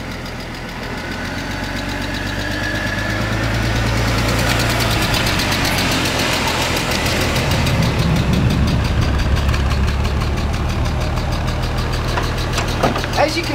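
Datsun Z car engine idling roughly and unevenly close by, a steady low rumble with faint knocking, then building louder through the middle; a voice speaks briefly over it.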